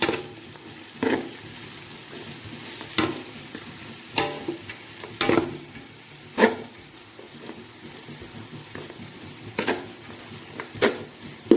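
Spring onions stirred in a frying pan, a steady low sizzle broken by repeated scraping strokes of a spoon at irregular intervals, close and clear with no talking.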